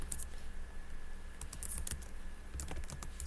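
Short bursts of typing on a computer keyboard, close and quiet, with crisp key clicks in uneven clusters and no talking.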